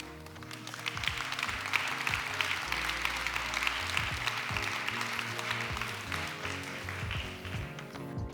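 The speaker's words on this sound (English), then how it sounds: "Thank you very much for your early applause." Audience applause at a talk on AI and content creation, a dense, sustained clapping roar lasting the whole stretch, fairly loud and without speech.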